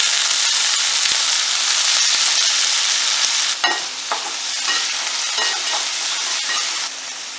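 Plantain pieces sizzle and crackle steadily in hot oil with mustard seeds, with a brief stirring clatter partway through and no talking.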